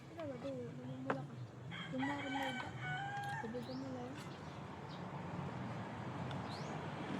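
Chickens cluck and a rooster crows in several rising calls, fairly faint, over a murmur of background noise.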